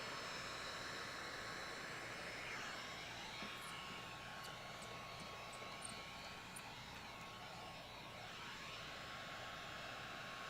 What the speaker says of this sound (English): The closer you get with your heat gun, but keep things moving because you're trying to push a lot of material together.